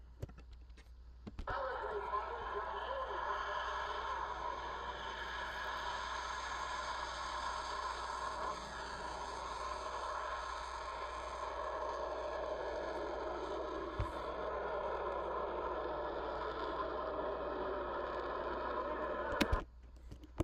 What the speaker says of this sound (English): Here we have a F-100 Super Sabre with the J-57 afterburner taking off